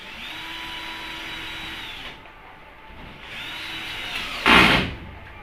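A power drill-driver runs screws through PVC ceiling panels into bamboo and wooden framing, whining steadily in two sustained bursts separated by a quieter gap, with a short loud clatter near the end; no one speaks.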